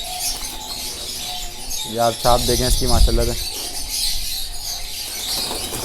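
Someone talks while a female homebred pigeon nearby gives a brief run of short, throaty coos and chirps over a steady background hiss.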